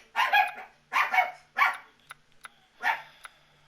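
A pet dog barking nearby in a home, four loud sharp barks in uneven bursts with short yips between them and pauses of near silence.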